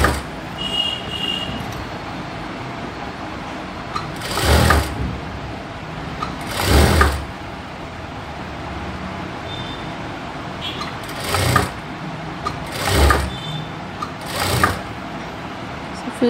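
A sewing machine stitches blouse pieces in five short, loud whirring bursts spread across the stretch, with someone talking between and over the runs.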